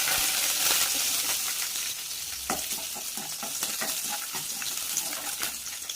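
Mustard seeds, dried red chilies and curry leaves sizzle and crackle in hot oil with rapid sharp pops scattered throughout, a busy spluttering hiss close by with no voices.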